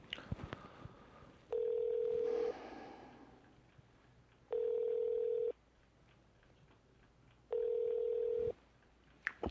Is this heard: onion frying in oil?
no